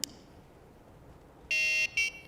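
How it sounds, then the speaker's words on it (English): Two short, shrill electronic beeps, the first longer than the second, sounding over a faint background hiss after a brief click. "it beeps to show that it's ready to use"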